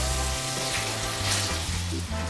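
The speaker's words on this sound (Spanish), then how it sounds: "Ahora le voy a poner las dos cebollas bien picadas." Finely chopped onions hit a hot pan of black paella base, where the wine has just cooked off, and fry with a loud, continuous close sizzle, stirred briefly throughout.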